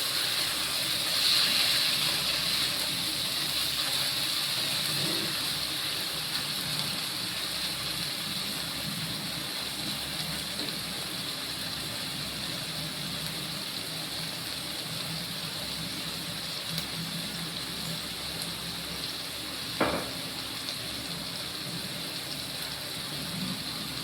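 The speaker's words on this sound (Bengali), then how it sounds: "এটাকে এভাবে আস্তে আস্তে করে নাড়তে হবে" Food frying in an open pan, stirred slowly, gives a steady, even sizzling hiss that carries on throughout, with one faint click near the end.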